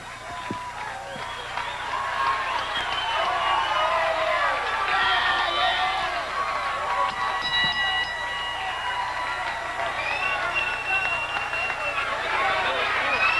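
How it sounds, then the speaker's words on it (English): A 1986 wrestling arena crowd roars and cheers wildly, a dense, sustained wall of noise with shrill whoops and whistles rising over it, while a commentator speaks underneath. "this crowd is going crazy"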